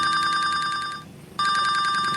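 A mobile phone rings loudly and close by with a bright, rapidly pulsing electronic trill, cutting off briefly before starting again, with no talking over it.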